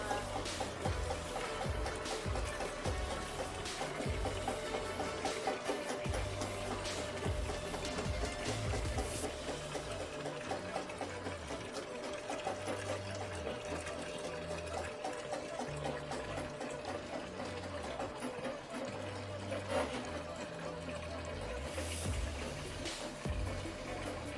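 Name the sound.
drain cleaning machine running while unclogging a floor drain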